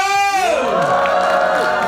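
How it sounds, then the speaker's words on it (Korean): A cinema audience at a stage greeting before a film screening shouts and cheers loudly, with high voices sweeping downward into a dense, sustained roar of the crowd. "해주실 분 소리 질러!"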